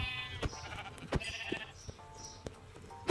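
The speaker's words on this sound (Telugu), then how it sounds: "చాలా ఉన్నాయి గేస్ మేకలు ఇక్కడ. మన కోసమే అనుకుంటా." Goats bleat in the Minecraft video game, several short calls scattered across a few seconds against light game ambience, with no talking.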